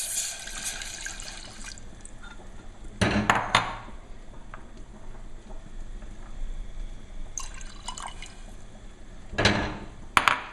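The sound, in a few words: pouring wine and butter into a saucepan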